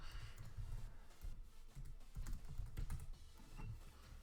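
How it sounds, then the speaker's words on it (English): Typing on a computer keyboard: a close, quiet stream of uneven key clicks and thumps that keeps going with no pause, and no voices over it. "I'm typing on all sorts of the wrong... all sorts of the wrong keyboard."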